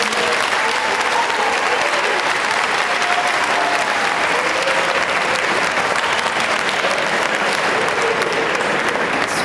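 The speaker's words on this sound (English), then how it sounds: "Can we give the coaches a round of applause," An audience at a college athletics awards event applauds the coaches, steady loud massed clapping that holds evenly throughout, with faint voices mixed in.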